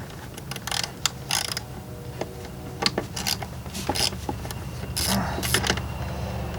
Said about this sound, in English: Now I've got my ratchet with my 8mm socket on there, and I'm gonna go ahead and remove these two bolts first.